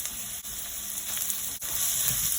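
Onion hitting hot oil in a pan while cooking corned beef with potato, giving a steady close sizzle and crackle throughout with brief dips as the pieces go in.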